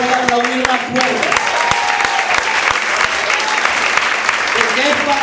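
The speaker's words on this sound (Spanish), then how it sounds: "Alguien puede aplaudir más fuerte," A church congregation at a Spanish-language service applauds loudly and steadily, with sustained dense clapping and voices in the background.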